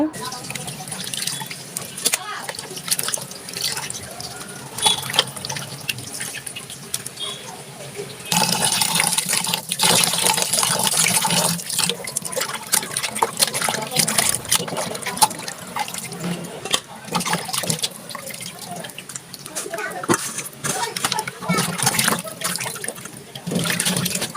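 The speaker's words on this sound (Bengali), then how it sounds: "মাংসটাও সুন্দরভাবে ধুয়ে নিচ্ছি" Water runs continuously from a tap as raw meat is washed in a kitchen, a loud, splashing stream that grows heavier partway through and carries on throughout with some handling noise.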